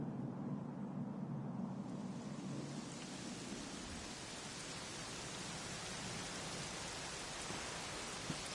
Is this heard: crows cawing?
no